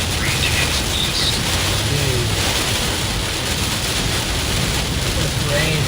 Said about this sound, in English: This rain is incredible.